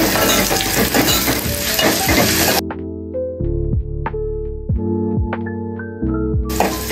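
Chopped tomato sizzles loudly in a hot pan for a Konkan-style pomfret curry, a dense frying hiss that breaks off midway into quieter kitchen tones before the sizzle returns.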